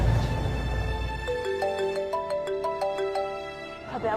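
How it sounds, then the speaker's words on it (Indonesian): Mobile phone ringtone for an incoming call plays as a bright, melodic electronic tune of repeated stepped notes, loud and close, following a brief burst of noise at the start. "HP aku bunyi. Siapa yang nelpon?"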